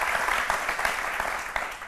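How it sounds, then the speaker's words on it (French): A studio audience at a midday television talk show claps in a steady, fairly loud burst of applause, dense and continuous with no talking over it. "On vous applaudit très fort."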